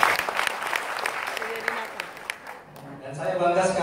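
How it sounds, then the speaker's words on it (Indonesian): An audience at a K-Link marketing plan event in Medan applauds the master of ceremonies, a lively burst of clapping for about two and a half seconds before it thins out and a voice begins speaking. "Tepuk tangan untuk MC kita."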